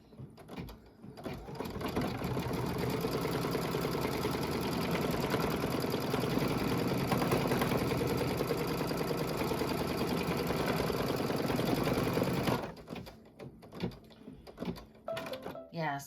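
An embroidery machine stitches a tack-down on a quilt block with a carrot design, a loud, steady, rapid mechanical whirr for about twelve seconds before stopping. Speech follows amid faint clicks.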